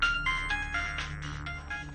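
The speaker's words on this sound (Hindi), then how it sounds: "अरे लड़की का बड़ा फोन आ रहा है तुम्हारे मोबाइल पे।" A mobile phone rings with a melodic electronic ringtone, a repeating pattern of bright synthetic tones played at moderate level against a low background hum.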